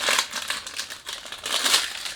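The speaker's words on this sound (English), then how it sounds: "So sorry about the noise. When you do unboxing, you can't do anything about it." Crinkling and rustling of perfume packaging being unboxed, with a Ben Sherman Icon cylinder box handled close up, bursts of crisp crumpling coming and going in uneven waves.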